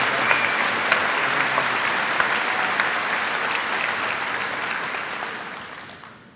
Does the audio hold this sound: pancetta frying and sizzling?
no